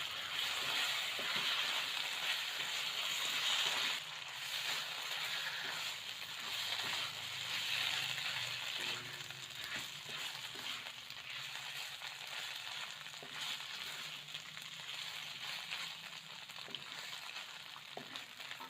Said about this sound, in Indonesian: Dan daging yang sudah direbus kita tumis.